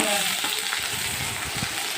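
Thin strips of potato, added to ivy gourd in a pan, fry with a loud, steady sizzle, and soft stirring scrapes sound close by.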